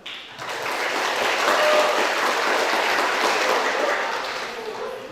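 An audience at an elementary education conference applauds a moderator with a full, even wash of clapping that swells quickly, holds steady, then tapers slightly at the end.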